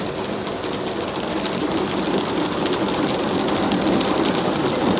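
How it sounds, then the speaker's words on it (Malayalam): Heavy desert rain pours down steadily, a dense, loud, unbroken roar of drops with no voices. "നോക്ക് എന്ത് മഴയാണ്"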